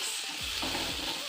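Chicken stew with dania stems stirred in a pan, a short close burst of soft sizzling and a spoon scraping through the mixture over a low hum, no voices.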